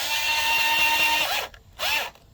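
A power screwdriver whirs steadily while backing out the lid screws on an iRobot Roomba S9 robot vacuum, running for over a second, then stopping, followed by a second short burst, close and clear.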